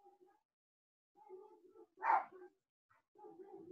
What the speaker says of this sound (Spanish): Hoy los perros de mi casa están como locos.